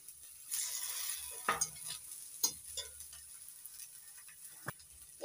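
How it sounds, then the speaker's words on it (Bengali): Ginger, garlic and onion frying in a pan for a broccoli dish, with a soft, quiet sizzle and a few brief scrapes and clinks of stirring, close by. "আদা রসুন পেঁয়াজের সঙ্গে ভালো করে ভেজে নিয়েছি।"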